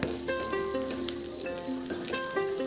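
Carrots and French beans sizzle steadily in a pan while cooking for Assamese pulau, a close, continuous frying hiss with a few soft stirring scrapes and a tonal hum running underneath.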